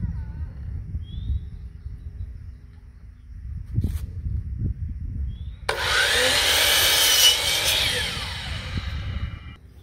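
A power saw cuts a wooden picture-frame piece at a 45-degree miter during an RV dinette build, a sudden loud whining burst after several seconds of quiet handling noises and low rumble.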